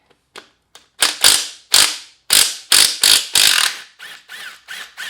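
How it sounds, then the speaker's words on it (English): A ratchet with a 12mm socket works loose motor bolts on a Honda CR125 dirt bike engine, giving a series of loud, sharp clicking bursts in an uneven rhythm, close up and with no talk. "now we grab a 12mm and take off these bolts"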